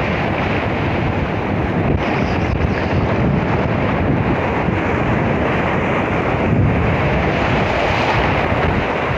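Midday sea waves breaking heavily on a village beach, a loud continuous roar of surf churning close by, mixed with strong wind buffeting the microphone throughout, with no talking.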